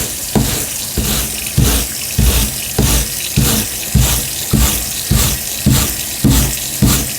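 Warm water runs from a tap to rinse paint off, a steady broadband wash with rhythmic surges roughly every 0.6 seconds, close and fairly loud throughout.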